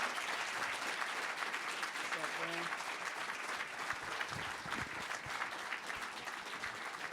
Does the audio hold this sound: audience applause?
yes